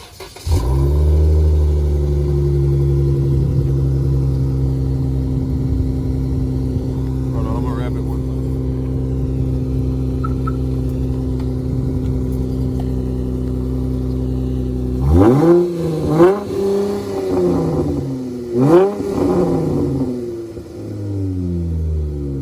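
V6 Dodge Charger with deleted mufflers, Corsa Performance exhaust tips and a Diablo Sport tune, cold started by remote. A loud, steady, deep exhaust drone idles for about fifteen seconds, then several sharp revs rise and fall.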